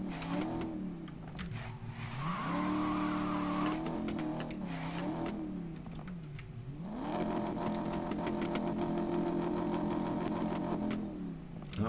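A Maserati MC Stradale sports car engine in a video game revs up and down repeatedly, rising to a loud whine and easing off between bursts, with no talking.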